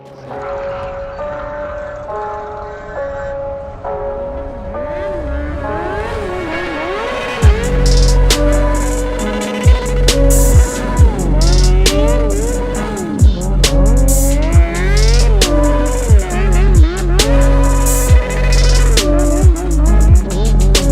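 A car doing donuts and held on the rev limiter, its engine droning loud and steady, rising and falling in pitch, with repeated sharp bounces as it hits the limiter.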